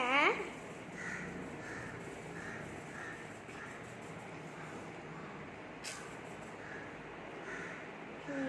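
Crows caw repeatedly in short calls at a moderate distance over steady outdoor background noise.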